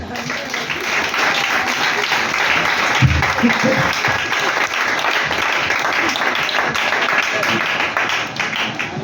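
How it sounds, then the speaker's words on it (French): Church congregation applauding Jesus, a sustained wash of loud clapping from a large crowd that fills the room without pause. "Acclamons Jésus"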